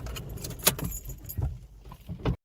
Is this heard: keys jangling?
yes